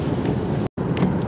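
Strong wind from Hurricane Nicole buffets the microphone as a loud, constant roar near a bridge and sailboats, briefly cut by a moment of silence.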